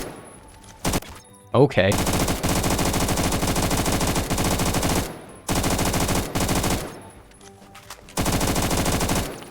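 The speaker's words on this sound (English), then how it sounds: "This is firing AK bullets." Rapid automatic AK fire with 7.62 rounds in the shooter Phantom Forces, several long bursts of loud, dense gunfire broken by short pauses, with a brief spoken word between them.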